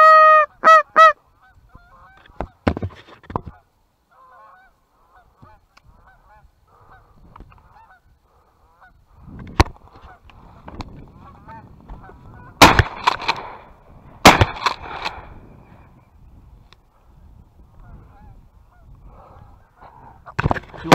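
Geese honk repeatedly in the open at a waterfowl hunt on opening day of duck and goose season, scattered calls with sharp loud gunshots bursting in between and long quiet stretches.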